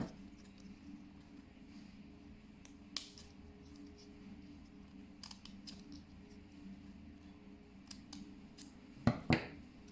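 Scissors cut petal shapes into a cardboard egg carton, giving faint, sparse snips and crunches over a low background hum, with a couple of sharper cuts near the end.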